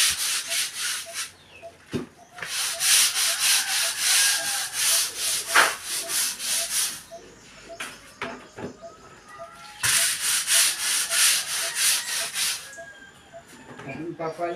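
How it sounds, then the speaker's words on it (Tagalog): A stiff brush scrubs a piggery floor hard in repeated bursts of rough, hissy rubbing, separated by short pauses and a few knocks, fairly close by. "Maiidiin-diin po ang kanyang pagbabras."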